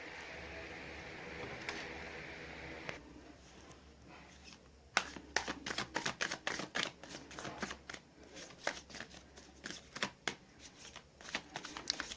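Tarot cards are shuffled by hand, starting with a soft steady riffle and then breaking into a rapid run of crisp, flicking slaps from about five seconds on, close and fairly quiet, with no talking.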